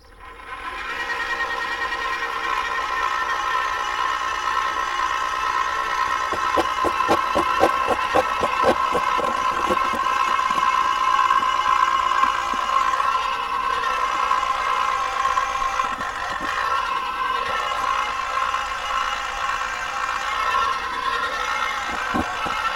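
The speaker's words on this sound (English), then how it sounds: "today we are using a Ryobi 40 volt electric post hole digger" A Ryobi 40-volt electric post hole digger bores fence-post holes in the ground at a cattle facility. Its motor whirs steadily and loudly throughout, with bursts of rapid rattling and clicking in the middle as the auger bites into the soil.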